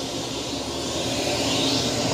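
A Eufy S1 robot vacuum runs on a medium or high suction setting, giving a steady, fairly loud whooshing motor hum up close with no pauses.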